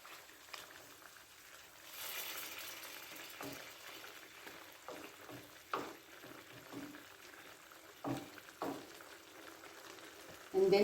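Chicken and vegetables sizzle softly in a stir-fry pan with a thin bubbling hiss, joined by occasional clinks and scrapes of stirring; the sound is fairly quiet and close.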